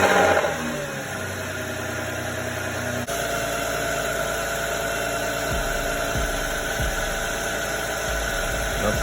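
A 2009 Dodge Avenger's 2.7 liter engine starts after an oil change, a cranking burst settling into a steady, even idle close by with faint mechanical thumps and no talk.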